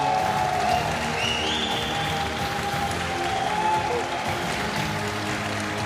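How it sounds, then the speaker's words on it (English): Sustained applause from a crowd at a Pokémon GO championship event in Turin, a steady wash of clapping throughout. "Can we give one more massive applause for your winner, Palasha?"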